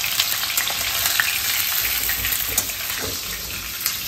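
Mango pieces fry with salt and turmeric for pickle, giving a loud continuous hiss and crackle close by, broken by light stirring taps.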